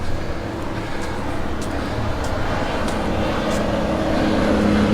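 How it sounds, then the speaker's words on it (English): An airplane drones overhead near Higgs Beach and the Martello Tower in Key West, a steady broad engine rumble that swells slightly toward the end, with no voices. "and an airplane."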